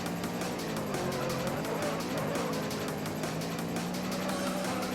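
A Honda CRX drives in the racing video game Juiced, its engine droning steadily and close throughout with a rising and falling pitch, a constant loud mechanical hum without pause.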